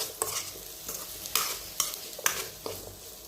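Mixed vegetables with chili powder and salt are stirred in a hot pan, giving a steady sizzle cut by six or seven sharp scraping strokes of the spoon, close and fairly loud, with no voices.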